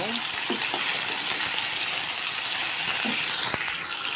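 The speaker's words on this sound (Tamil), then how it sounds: "ஆனியன் சேர்ந்து நல்லா வதக்கிக்கோங்க." Onions sauté in a hot pan for a tomato thokku, giving a continuous bright sizzle with an occasional stir or clink and faint voices in the background.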